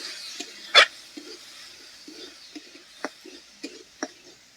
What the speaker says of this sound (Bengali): এবার দিয়ে দিব ফেটে রাখা ছোলা একটু নেড়ে চেড়ে নেবো